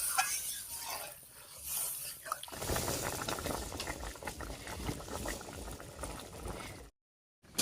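A curry of ridge gourd, potato and soybean in spiced gravy boils in a pot, bubbling and hissing close up in a steady rolling simmer that rises after a quieter start, then cuts off briefly.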